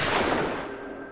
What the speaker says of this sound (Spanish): y soltó 2 disparos